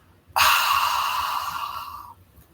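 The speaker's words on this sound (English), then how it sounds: "You should be able to hear this sound as I inhale. It's like I'm dragging the air down the back of my throat." Deliberate yoga breath drawn in through the back of the throat: one long, close, hissing inhale that starts abruptly and fades out after about two seconds, with no talking.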